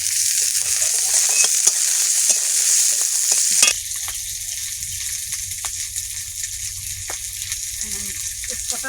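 Garlic sizzles steadily in hot oil in a pan during a Bengali koi fish and cauliflower curry, a bright continuous hiss with a louder burst near the start and occasional stirring clinks, voices talking faintly in the background.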